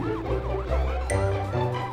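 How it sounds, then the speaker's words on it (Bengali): An ambulance siren wails loud and close in a comedic scene, with a rising and falling two-tone cycle repeating continuously and a brief sharp tonal jump partway through. "অসাধারণ অ্যাম্বুলেন্স"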